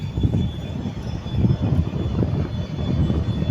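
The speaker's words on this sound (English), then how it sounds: "that's the trolley doing its job very well" A large gantry crane's trolley runs smoothly with no fault, giving a steady, fairly loud low mechanical rumble with a faint thin whine above it throughout.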